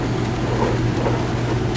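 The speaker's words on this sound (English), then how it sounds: "So here you can see all the gears working." A Honda three-speed transmission runs with its gears turning between shafts, giving a steady mechanical whir and hum with a low drone, loud and continuous throughout.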